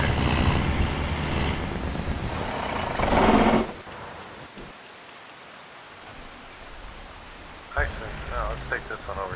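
Steady rain hisses across a swampy farm in Farming Simulator 22, a broad wash of noise that drops to a softer patter halfway through while a voice talks over parts of it.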